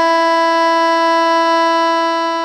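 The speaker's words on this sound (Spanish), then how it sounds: "vamos a aprender la nota Mi grave" A melodica sounds a single sustained low E, a loud, steady reedy tone with rich overtones held unbroken for over two seconds, slightly fading at the end, with no other sounds.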